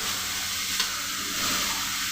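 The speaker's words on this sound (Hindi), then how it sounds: "तड़का लगा दिया" Steady crackling sizzle of spices frying in hot oil, close and continuous, with a brief sharper pop early on.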